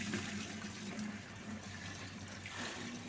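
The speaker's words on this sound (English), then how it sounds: "I'm gonna water it with the water that I catch from it" Caught rainwater poured from a bucket onto a mint plant in a garden, a soft continuous splashing and trickling pour lasting a few seconds, fairly quiet and close, with no talking.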